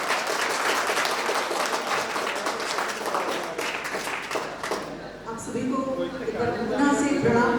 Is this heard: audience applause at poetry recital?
yes